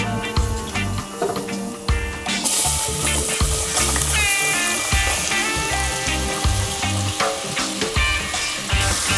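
Onions and cumin fry in a hot pan with a loud, dense sizzle and crackle that flares sharply after a couple of seconds, with scraping and clattering from stirring throughout.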